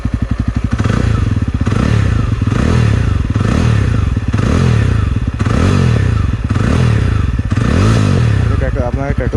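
Close, loud Jawa 42 2.1 motorcycle running without a dB killer, its exhaust thumping in a deep throbbing idle and repeatedly revved in rhythmic swells with crackles, a voice talking over it.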